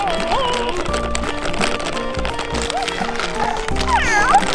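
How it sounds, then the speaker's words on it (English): A FurReal Walkalots toy kitty walks and bounces along, giving off mechanical whirring, rhythmic tapping footsteps and electronic meow-like chirps, close and fairly loud over a continuous background hum. "That kitty's making a lot of noise, isn't it?"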